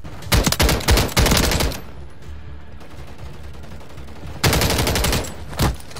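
Gunfire in Call of Duty comes as two loud close bursts of rapid automatic fire, the first lasting over a second, then a quiet gap with faint background ambience before a second burst and a final shot.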